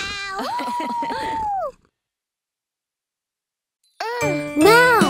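Cartoon kitten meowing in a children's song scene, with a couple of bright, sliding mews near the start and more after a short silence, loud and close, with music and singing around them.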